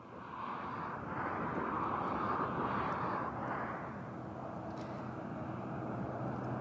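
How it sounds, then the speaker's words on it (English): Roadside traffic in Klerksdorp forms a loud, continuous broadband rumble and roar of passing vehicles, swelling and easing slightly with no speech heard. "Gareth, I can't hear you properly because perhaps maybe of the traffic"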